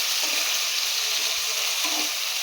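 Onions fry in a pan and give a constant bright sizzle close by, with faint stirring scrapes under it and no voices.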